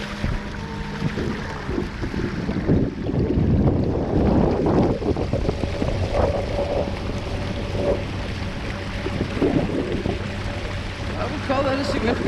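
An electric-motor kayak cruises steadily across open water, with a continuous low motor hum and water rush mixed with heavy wind buffeting on the microphone; a voice is heard briefly over it.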